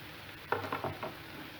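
Lemon dropping into a sizzling pot, a soft brief splash and stir sounds over a steady frying hiss.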